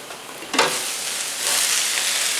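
Andouille sausage and vegetables sizzling in a pan on a stove burner, a steady close frying hiss that swells as the sausage goes in.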